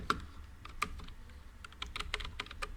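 Java code is tapped out on a computer keyboard in a run of quick, irregular clicks, close and fairly quiet, with small pauses between bursts.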